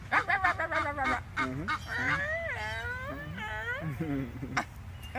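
A voice makes a run of whiny, yelping, sing-song vocalizations in short bursts, mimicking a miniature pinscher trying to talk.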